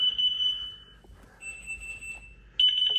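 A SimpliSafe Gen 3 smoke and CO detector sounds its alarm indoors, giving loud, piercing high-pitched beeps in long steady tones separated by short gaps, close to the listener.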